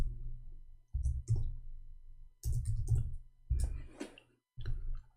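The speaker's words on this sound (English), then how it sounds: "I'm typing in English again" Computer keys click in short irregular bursts separated by brief silences, close and fairly quiet, with a low hum running under each burst.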